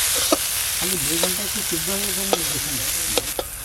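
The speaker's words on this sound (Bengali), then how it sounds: "এই তো হয়েই এলো আর একটুখানি ভাজা করলে হয়ে যাবে" Vegetables sizzle loudly in a hot pan, a constant close crackle broken by a few sharp clicks and scrapes from stirring, with no talking.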